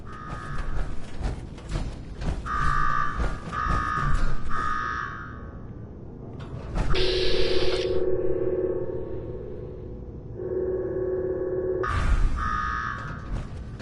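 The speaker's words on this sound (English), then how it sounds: "Now go shut off that damn alarm." Alarm blaring in Fallout 4's Nuka-World, a loud tonal siren in repeated pulses and sustained blasts that alternate between higher and lower pitches, with mechanical clanking throughout.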